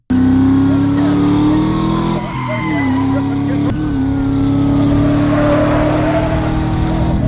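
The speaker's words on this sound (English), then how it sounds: "Listen to that engine." A car engine idles loudly and steadily, its pitch dipping and rising in a couple of brief revs, close by with a low rumble throughout.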